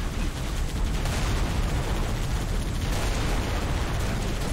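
A tank is destroyed in Halo: Reach on Legendary, a sustained loud, dense rumble of explosions and gunfire that fills the whole stretch without a break.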